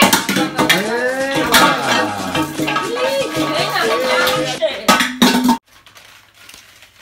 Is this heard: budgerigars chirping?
no